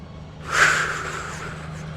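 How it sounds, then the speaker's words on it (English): A big truck passes outside, a brief swelling whoosh that peaks and then fades over a low steady hum, moderately loud and heard without talk. "So there's a big truck out there."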